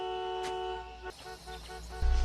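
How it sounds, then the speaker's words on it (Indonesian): A car horn sounds with a steady, loud tonal blare that holds for about two seconds, followed by a low rumbling thud. "ia membunyikan klakson keras-keras untuk meminta pertolongan"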